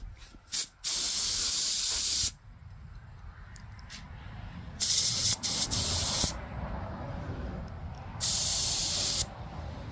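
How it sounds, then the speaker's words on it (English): Three bursts of aerosol spray paint hissing close by while painting a Tamiya FAV model, short puffs first, then two longer sprays separated by quieter gaps. "I'm just going to spray towards you here"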